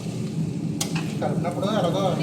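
Noodles sizzle and are stirred in a hot pan, a steady close frying hiss with a few scraping stir strokes, while a voice talks briefly over it.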